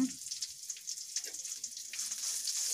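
Soft, steady sizzling and crackling from food frying in a pan, fairly quiet and continuous with no talking.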